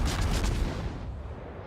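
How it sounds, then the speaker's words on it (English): Incoming shell fire in the naval combat game World of Warships, a loud rumbling boom of heavy gunfire that fades into a low roll, with no talk over it. "More shots coming in."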